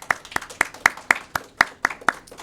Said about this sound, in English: Congratulations, guys. Give yourself a big round of applause